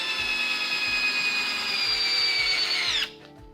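A Black and Decker combo-kit drill drives a 2.5-inch screw into a piece of 2x3 wood with a loud, steady high-pitched motor whine for about three seconds before stopping abruptly.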